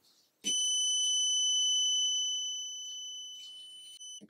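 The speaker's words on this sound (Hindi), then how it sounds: "तो यहाँ पर हमारा बर्जर साउंड कर रहा है" A piercing electronic buzzer, driven by an Arduino and push button, sounds one steady high tone for several seconds, gradually softening, close and loud, with no talk.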